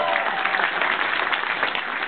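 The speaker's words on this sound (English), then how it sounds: "Can I get a round of applause?" Audience applause at a stand-up comedy show in a concert hall, a brief burst of steady crowd clapping at moderate level, slightly muffled and thin in tone.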